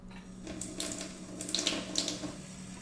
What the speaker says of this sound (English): a little bit of running water while I do this chopping